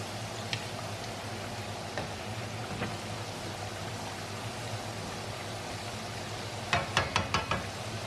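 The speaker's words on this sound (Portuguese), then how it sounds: "E também já tenho as batatas a fritar." Potatoes fry in hot oil with a loud, steady, close sizzle and hiss throughout, joined near the end by a quick run of sharp pops and clicks.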